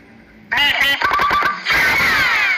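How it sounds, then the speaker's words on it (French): A telephone rings suddenly and loudly after a quiet moment, its bright electronic tones arriving in a quick string of pulses and then a sustained trill, alone without talk. "Sérieux, il m'a fait sursauter le téléphone"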